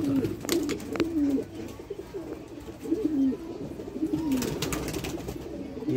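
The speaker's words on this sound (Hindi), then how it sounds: "ये है जी रामपुरी कबूतर जी" Rampuri pigeons coo in repeated low throaty phrases, close and fairly loud, over light background noise with a few soft bird chirps.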